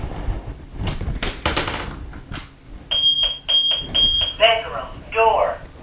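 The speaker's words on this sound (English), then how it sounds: "it says chime. That means it's going to announce every door that you open." Three short, high electronic beeps in quick succession, followed by a brief synthesized chime tone from an ADT alarm panel as a door opens, with a person talking just before.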